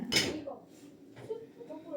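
Dishes being loaded into a household dishwasher, with a sharp clatter of plates at the start followed by softer clinks and knocks at close range, while a person talks quietly.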